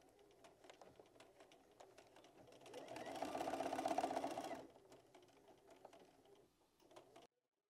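A sewing machine stitches a quarter-inch seam on a fabric card wallet, a brief steady mechanical whirr of a few seconds rising above quiet room sounds, faint and close.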